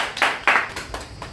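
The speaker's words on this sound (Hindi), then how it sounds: "जोरदार ताली।" A handful of sharp, close hand claps ring out in a quick uneven burst from the crowd at an RCM monthly business meeting in Kamtaganj village.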